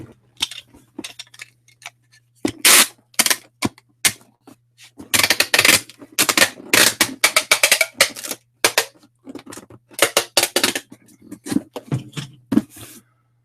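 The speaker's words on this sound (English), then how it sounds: "I ran one across the top just to hold the box closed so that I can run one across the seam." Packing tape being pulled and smoothed across the top and seam of a cardboard shipping box: bursts of crackly ripping and tapping in irregular runs, close and fairly loud, with no talking.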